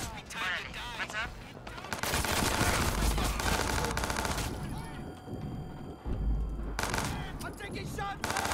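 Gunfire in Watch Dogs 2 during a shootout with guards, sustained machine-gun bursts and scattered shots, loud and dense, with voices shouting in between.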